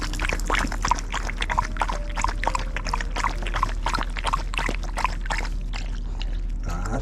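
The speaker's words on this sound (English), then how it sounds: "That's a handy wee tap there now." Water pours steadily from a small outdoor tap at a caravan site near sand dunes, a continuous close splashing trickle with faint voices around it.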